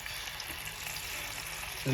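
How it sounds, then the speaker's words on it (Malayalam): Fish frying in hot oil in a pan gives a continuous, fairly quiet sizzle and crackle, steady throughout with no break. "എണ്ണ ഏകദേശം ചൂടായി തോന്നുന്നു കേട്ടോ അപ്പൊ നമുക്കൊരു മീൻ എടുത്ത് വെച്ച് നോക്കാം"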